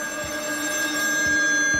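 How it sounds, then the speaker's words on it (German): An old-style telephone rings inside the horror game Still Wakes the Deep, a shrill bell tone sustained through the whole stretch with soft ticking pulses beneath, loud and close, no voices. "Oh, Telefon."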